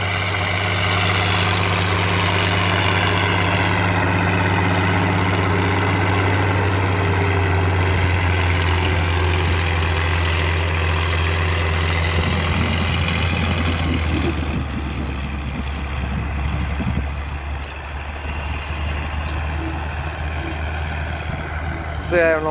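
An International Harvester 3588 tractor rumbles through spring tillage in a field, its deep steady engine and exhaust drone loud and close throughout, with a slight dip and rise in pitch toward the end.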